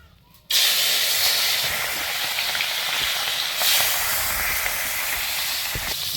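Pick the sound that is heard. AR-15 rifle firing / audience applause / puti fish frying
puti fish frying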